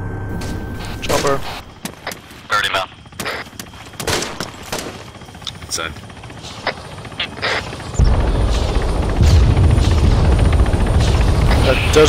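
Arma 3 combat audio with a helicopter flying over, its rotor drone swelling into a loud steady roar in the second half, after scattered bursts of gunfire and people talking over radio.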